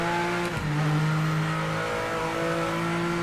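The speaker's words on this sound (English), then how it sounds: "This car sounds amazing." A GT3 race car engine in the Project Motor Racing video game drones loudly and steadily at sustained high revs, with a brief dip and pitch shift like a gear change early on.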